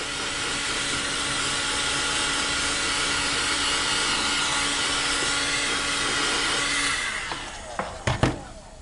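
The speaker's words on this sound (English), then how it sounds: "just get the heat gun and melt it back down again" A heat gun melts wax into a leather sheath, giving a loud, steady blowing roar that holds for about seven seconds, then cuts off and leaves a few faint handling knocks.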